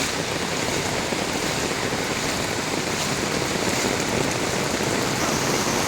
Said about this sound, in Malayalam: അതായത് മഴ പവർ കൂടുന്നതിനനുസരിച്ച് വെള്ളത്തിൻ്റെ